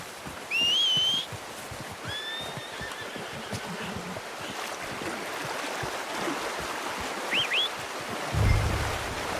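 A horse in Red Dead Redemption 2 whinnies loudly near the start, followed by softer neighs and snorts over a steady rushing background like water or wind.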